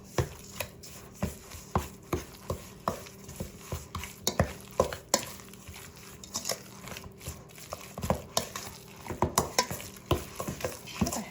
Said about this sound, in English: I'm going to take my mixing spoon and I'm going to start mixing those ingredients in.